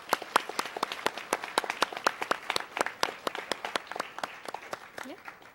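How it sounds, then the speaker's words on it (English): A small audience claps at a spring 2021 early college awards ceremony, with sparse, distinct handclaps in a lively but thin patter that continues steadily and then tapers off. "let's give them a round of applause"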